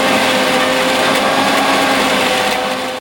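A mixer grinder whirs loudly and steadily as it grinds roasted spice masala with pepper, a continuous high motor whine that cuts off abruptly at the end.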